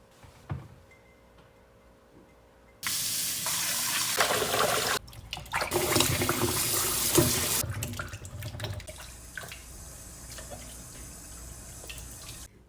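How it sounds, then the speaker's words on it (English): Tap water runs steadily and splashes for several seconds, with apples being rinsed under the stream, then eases off; no voices. "So we're gonna clean these apples up a little bit better than just with water."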